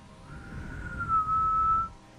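A voice softly imitates a faint whistle heard outside at night, a single thin sustained tone that rises slightly and holds for about a second, close and quiet over a low background hiss.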